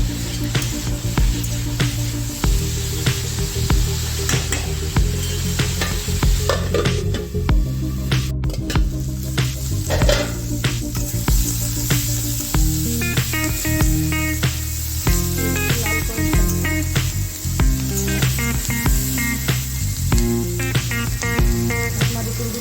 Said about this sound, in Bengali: এবার আমি গ্যাসের ফ্লেমটা বাড়িয়ে দিচ্ছি, লাল করে একটু ভেজে নেবো।